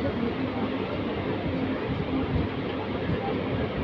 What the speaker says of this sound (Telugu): అనపర్తి నుండి అయితే మన ట్రైన్ అయితే బయలుదేరిపోయింది